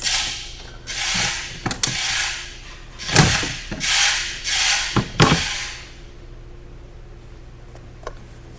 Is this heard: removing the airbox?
yes